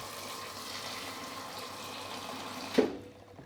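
Water pours steadily into a cooking pot of chopped okra for a Ghanaian okra stew, a continuous close gushing fill that ends in a brief splash and fades near the end; no talking.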